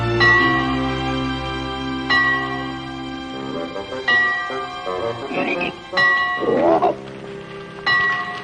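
A church bell rings in a Western frontier setting, several strikes spaced about two seconds apart, each ringing out with a long fading hum, moderately loud with no voices over it.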